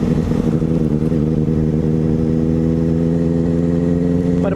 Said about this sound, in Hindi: मैं लाइफ की पहली सुपर बाइक चला रहा हूँ जिसके अंदर ऑलमोस्ट 85 bhp की पावर है